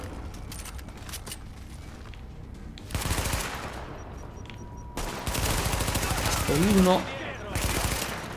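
Enemy gunfire in The Division, bursts of rapid automatic shots and heavier firing clustered in two loud stretches, with gaps of quieter ambience between, and someone speaking briefly.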